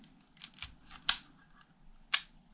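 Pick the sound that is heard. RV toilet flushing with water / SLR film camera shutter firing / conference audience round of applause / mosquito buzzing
SLR film camera shutter firing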